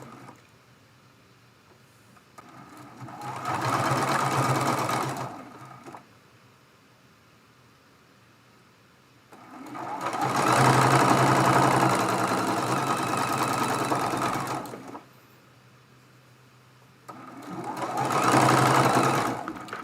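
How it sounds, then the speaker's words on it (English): A sewing machine stitches seams joining quilt block pieces for a Dresden Plate block, made from charm pack fabric. Three separate bursts of steady motor whir are heard, each lasting a few seconds, with quiet pauses between them and no talking. "Matching up that raw edge and sewing that seam."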